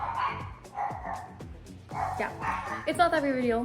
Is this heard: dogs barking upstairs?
yes